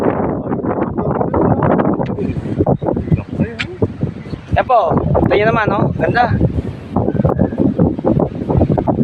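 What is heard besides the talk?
strong wind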